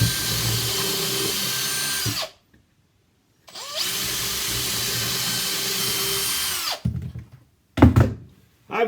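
A power drill boring into a wooden block for a bathroom fitting, which is later screwed to the floor. Two long, loud whirring bursts are separated by a pause, followed by a few knocks and clunks.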